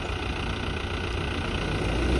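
A Bolero SUV with its tyres half sunk runs its engine while trying to reverse out. A steady, close, low rumble continues throughout, with no voices.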